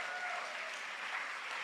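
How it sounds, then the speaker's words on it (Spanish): A church congregation applauds loudly during a worship service, a dense, steady wash of clapping throughout with no other sound standing out. "Bien fuerte ese aplauso."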